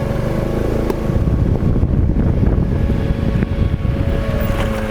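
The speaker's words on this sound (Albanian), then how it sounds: "Te ushtrimi numër 6 duhet mi gro motorit pak ma shpejt edhe mi përdur frenat për me nalë të rrethi" A motorcycle on a driving-school test course runs with a loud, close engine rumble and wind buffeting the microphone, the engine note rising slightly mid-clip without a clear braking sound.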